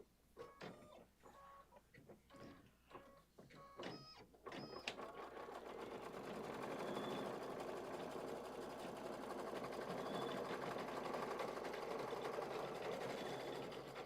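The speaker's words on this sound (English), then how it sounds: "And we're going to stitch that down." An embroidery sewing machine stitches two fabric pieces down, starting with a few separate clicks and short bursts before settling into a steady, even mechanical whir that runs on alone.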